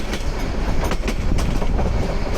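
A passenger train runs along the Dhaka–Chattogram line near Brahmanbaria, giving a steady close rumble with repeated rhythmic wheel clicks over rail joints, loud and continuous with no voices.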